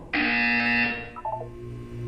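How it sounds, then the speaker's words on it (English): A loud electronic buzzer from the Portal 2 test chambers sounds once, a harsh steady tone of about one second, then a few short descending beeps, close and clear with no talk over it. "You will hear a buzzer. When you hear the buzzer, look down at the floor."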